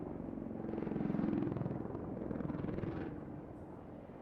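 An Apache helicopter flies an agile display at an air show while loaded to operational weight, its rotor thump and engine drone heard at a moderate distance, swelling and fading slightly as it manoeuvres.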